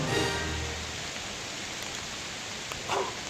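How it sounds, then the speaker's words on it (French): Dense, hissing rain pours steadily with a windy rush, loud and close, holding constant throughout. "Le vent se lève, il y a de la pluie!"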